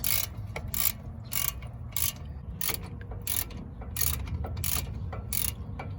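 Quick clicking bursts of a hand ratchet working loose bolts on the front hub assembly of a Ford Ranger 4x4, about a dozen sharp rapid strokes in a steady rhythm, close and clear.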